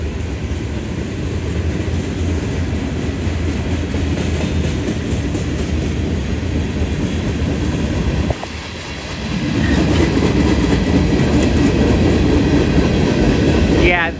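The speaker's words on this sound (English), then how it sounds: "Based on the CN gondolas and boxcars, I truly do think this is M627." A CSX freight train of CN gondolas and boxcars rolls past close by, a loud continuous rumble with rhythmic clickety-clack of wheels over rail joints, briefly dipping midway before surging back as more cars pass.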